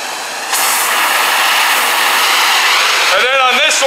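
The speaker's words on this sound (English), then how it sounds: "this is where I'm going to take my torch one more time" A torch flame heats hardwood to make aged barn wood, roaring with a loud, steady hiss that starts abruptly about half a second in. A voice speaks briefly near the end.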